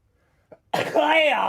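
A single sharp sneeze bursts out close and loud after a brief quiet intake, ending in a voiced, throaty tail.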